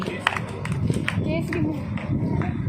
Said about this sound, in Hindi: तालियां बजाते रहिए ताकि परफॉर्मर का भी हौसला बढ़ता रहे।